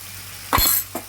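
Coconut masala frying and being stirred in a pan for an Andhra-style vada curry, a short close scrape-and-sizzle burst followed by a softer second stir over a quiet background hum.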